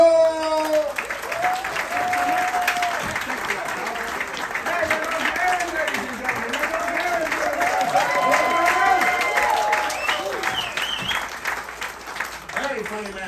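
Audience clapping for a headliner comedian at a Royal Caribbean Allure of the Seas comedy show, sustained dense applause from a crowd filling the whole stretch, with a voice speaking over it.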